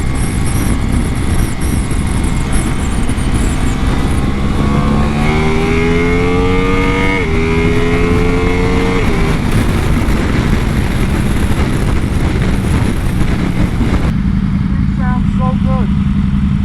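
A Ducati Pikes Peak motorcycle engine roars loudly, revving up through rising pitches and then settling, with wind noise and people talking underneath.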